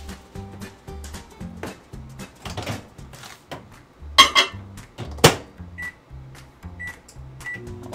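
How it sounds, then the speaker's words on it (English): Microwave oven heating a glass bowl, a low steady hum with repeating rhythmic pulses, close by, interrupted by a couple of clunks and followed by a few short beeps. "in my glass bowl and pop it in the microwave."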